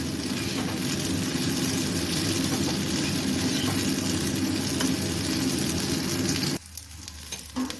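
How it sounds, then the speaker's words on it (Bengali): Eggplant pieces fry in a pan until reddened, giving a steady, close crackling sizzle that runs evenly, then drops off sharply near the end, leaving faint clinks and quiet noise. "বেগুনগুলো আমি লাল করে ভেজে নেব।"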